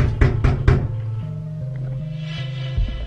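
Three firm knocks land quickly on a front door, loud and close, followed by a quiet room with a low hum and a faint soft thud near the end.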